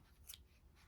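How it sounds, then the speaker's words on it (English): Scissors snip through crochet yarn, a soft faint rub followed by one sharp close cut at the end, no voices. "So if you cut your yarn"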